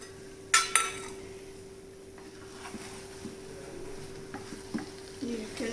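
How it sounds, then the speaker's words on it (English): A spoon stirs spiced potato vada filling in a hot pan: two sharp clinks early on, then soft scrapes and light taps over a low sizzle and a faint steady hum. "So we will check and give a stir."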